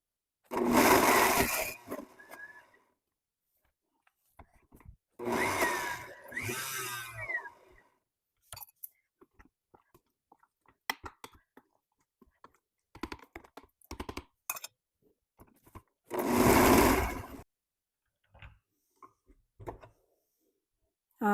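A mixer grinder roars in short pulses as it coarsely grinds roasted brinjal for chutney. There are several loud bursts of a few seconds each, separated by quiet gaps with scattered clicks and knocks.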